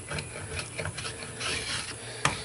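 A WC draw knife, turned over like a chisel, makes fine shaping cuts on a wooden spatula, producing a steady close rasping scrape in short repeated strokes that ends with a sharp click.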